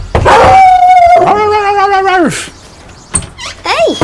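A young woman in Grimsby imitates a dog at close range, with loud, drawn-out howling yelps followed by a few shorter yips.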